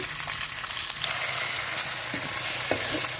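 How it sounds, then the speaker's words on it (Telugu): Curry leaves and onions drop into hot oil in a kadai for a brinjal and beans curry, producing a loud, continuous, crackling sizzle close by with a few faint stirring knocks and no talking. "ఆయిల్ అవ్వింది కరివేపాకు వేసుకుందాం ఇప్పుడు అలాగే ఉల్లిపాయలు"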